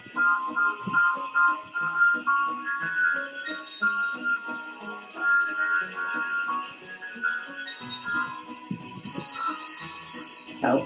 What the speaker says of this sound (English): Oh, the bell has dinged. It's making some noise.